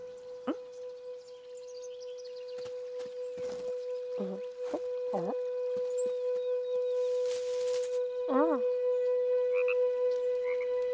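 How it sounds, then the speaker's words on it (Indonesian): Three frogs croak in short, wavering calls beside water flowing continuously from a wooden log, set against a steady tonal hum with a few bird-like chirps and drips, fairly close and clear. "Terus ada 3 katak yang nyamperin Tupai Mini"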